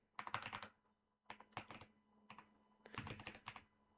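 Quiet keystrokes on a computer keyboard while entering a command-line curl command, in three quick bursts of close clicking separated by short pauses.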